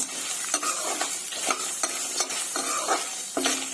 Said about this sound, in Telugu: ఇవి కూడా ఒక 2 నిమిషాల పాటు బాగా ఫ్రై చేసుకుందాము.